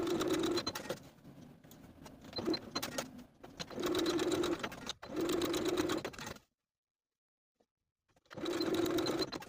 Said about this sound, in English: we're going to edge stitch the tie in place along the outer edge of the slit.